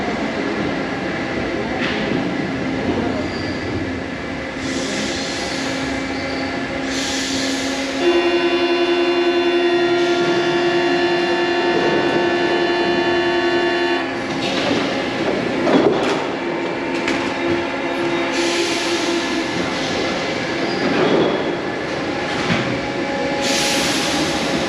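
Paris metro train on line 3bis or 7bis running through a station, a loud steady rumble with sustained wheel squeal and flange tones, occasional clacks and brake hiss, close by, no talk.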